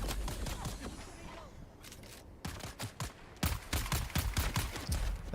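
Rapid gunfire in a video game striking a helicopter, heard as dense bursts of sharp cracks that pause briefly and then return louder and thicker toward the end.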